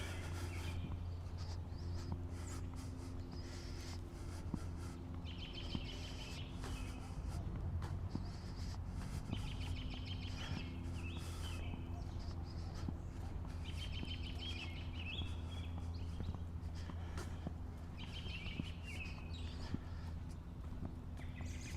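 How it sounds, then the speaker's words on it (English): Birds call in the evening, repeated chirps and calls from the middle distance over a steady low hum, fairly faint throughout. "It's evening and the birds are all yelling at each other."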